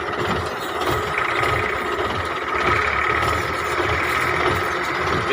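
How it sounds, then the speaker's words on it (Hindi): A Millat tractor hauling a loaded 16-foot trolley, its diesel engine rumbling steadily and close, with a throbbing low pulse and mechanical rattle that swell slightly midway. "मिलत दे ट्रैक्टर का 16 फुटा ट्राला लोड किया होया जी"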